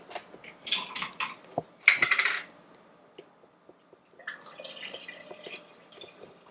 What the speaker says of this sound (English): And then I'm going to add some lemonade.